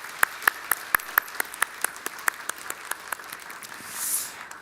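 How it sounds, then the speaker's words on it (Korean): A church congregation applauds in welcome during a Sunday worship service, with sparse, irregular claps rising and falling across the hall. Most clapping is moderately loud, and no one speaks over it. "우리 다 같이 우리 환영하는 의미로 다 같이 박수를 하겠습니다."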